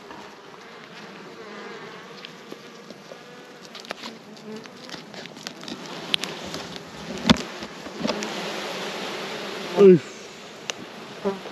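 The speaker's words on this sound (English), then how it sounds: "Bees clustering or bearding on the outside." Honeybees bearding outside a full hive box drone in a dense, steady buzz close by, with scattered handling knocks and a brief exclamation from a person partway through.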